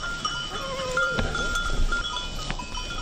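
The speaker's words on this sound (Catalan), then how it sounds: "al seu ramat de 35 ovelles i també algunes cabres" A flock of about 35 sheep plus some goats grazing on a mountain pasture, their bells clanking and tinkling steadily at close to middle distance over an open outdoor ambience, with no talking.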